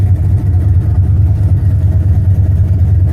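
Car engine running after being cranked, a loud close low rumble with steady pulsing idle and slight revving, no talk.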